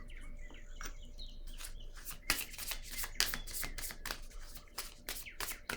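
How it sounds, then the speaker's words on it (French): A tarot card is laid down on a table, giving a few light papery taps and slides among soft handling noises over a quiet room with faint bird chirps in the background. "Je vais déposer une carte ici."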